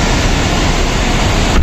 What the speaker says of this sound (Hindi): आवाज सुन रहे हो पानी की